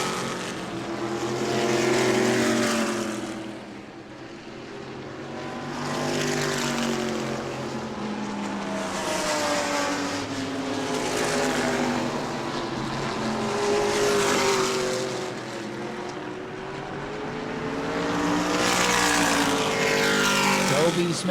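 Ground pounder stock cars race around the New Smyrna track, their engines droning in a steady rising and falling roar that swells as the pack passes, with a commentator talking over the top throughout.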